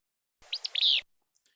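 A flycatcher's fizz-bew song from a recording: one brief buzzy phrase with two quick opening notes sliding into a longer fizzy slur, clear and isolated against silence.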